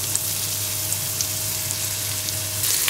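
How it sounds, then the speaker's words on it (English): Onion and garlic frying in oil in a pot on the stove, a steady soft sizzle running evenly throughout with a faint low hum beneath and no talking. "put your pot on the fire and add some nice oil in there. First, in with the onion and the garlic."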